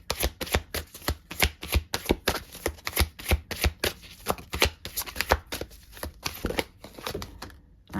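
Tarot cards shuffled by hand in a rapid, steady run of crisp riffling snaps that continue for several seconds at close range, with no talk over them.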